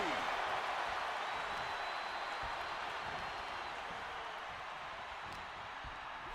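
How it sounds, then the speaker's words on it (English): Dense crowd applause and cheering from an arena audience in the WWE 2K26 wrestling video game during a Royal Rumble match, a steady broad wash of sound that fades slightly, with commentary talk over it. "The WWE Universe is showing their appreciation for the action they're seeing."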